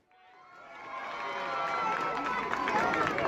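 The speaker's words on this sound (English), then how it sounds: "another rally was held outside the school, with the speaker addressing a crowd from the back of a lorry" A crowd gathers at a protest rally outside a school, a dense wash of many voices rising from faint to loud and holding steady with shouts and chatter mixed in.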